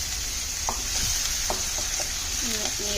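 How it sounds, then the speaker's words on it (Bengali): Chopped onion frying in a pan while being stirred, a constant sizzle with occasional scraping clinks of the spatula; a brief faint voice may be mixed in. "নেড়ে দিচ্ছি।"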